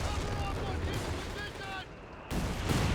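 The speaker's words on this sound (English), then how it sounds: "Keep dropping the rapid artillery" Rapid artillery barrage in the video game Company of Heroes 3, a continuous rumble of distant blasts and gunfire with whistling shells, a brief lull, then renewed heavy booms, all under battle noise.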